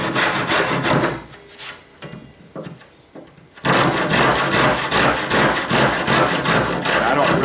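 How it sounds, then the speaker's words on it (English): Big coarse Japanese rip saw cutting wood by hand for a furniture project, rasping in quick rhythmic strokes up close, pausing briefly with a few lighter strokes before resuming steady loud sawing. "So I'll just use my big coarse Japanese rip saw here."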